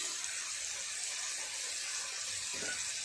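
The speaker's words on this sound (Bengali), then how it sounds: "অল্প একটু জল দিয়ে দেবো।" Water is poured into a spiced salted-fish curry seasoned with turmeric and chili powder, giving a steady close splashing rush that lasts the full three seconds with no voices.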